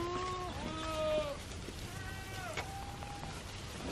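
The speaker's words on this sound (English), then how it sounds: "There's a bunch of goats here, so that's kind of interesting." Goats bleating in the hills near San Jose, several wavering calls overlapping in the first second and again around two and a half seconds, moderately near, over a steady outdoor hiss.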